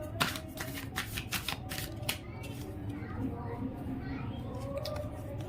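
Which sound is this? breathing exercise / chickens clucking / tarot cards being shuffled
tarot cards being shuffled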